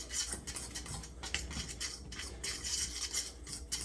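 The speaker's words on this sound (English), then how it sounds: "We got 1 cup of flour, 1 cup of sugar, and then you want to combine that to where it's a good mix" A utensil scraping and stirring through a bowl of flour and sugar for a cobbler batter, a steady close gritty scratching with faint clinks against the bowl, no voices.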